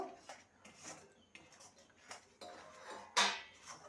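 A utensil scrapes and clinks against a pan in a few quiet, irregular strokes as roasted rice flour is stirred in, with one sharper metallic knock near the end.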